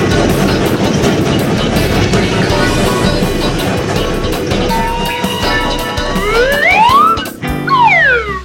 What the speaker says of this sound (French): C'est un train à vapeur.